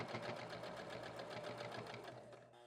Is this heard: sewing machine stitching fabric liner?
yes